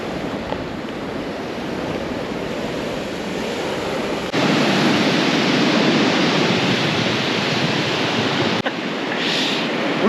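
Ocean waves roll and wash in a broad, steady roar, with wind buffeting the microphone and the level jumping partway through, and no voices.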